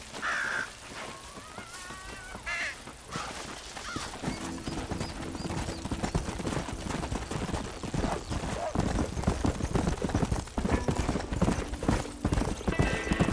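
Horse hooves clip-clopping in the western video game Red Dead Redemption, a steady rhythmic trot that grows louder and busier, with a whinny and crow calls early on.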